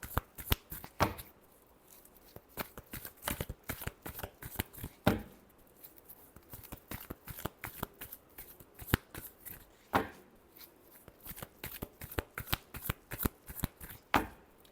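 Tarot cards riffle and flick in quick bursts of papery snaps, a steady close-up shuffle with short pauses between runs and no voices.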